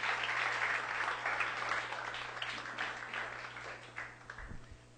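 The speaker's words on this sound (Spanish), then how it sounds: "Dele un fuerte aplauso al Señor" Sustained applause from a church congregation during a worship service, a thick wash of many hands clapping that slowly thins toward the end over a low constant hum.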